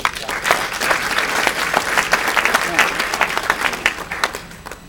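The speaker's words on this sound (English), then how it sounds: "Give yourselves a round of applause" A crowd at a scholarship gathering breaks into sustained applause, many hands clapping densely and steadily with a few sharp individual claps poking out near the mic.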